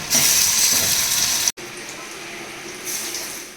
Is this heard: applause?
no